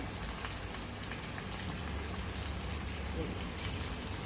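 Mandeli fish fry on a hot tawa, a dense, steady hiss of sizzling oil running unbroken from start to finish and masking any clink of the knife used to flip the pieces.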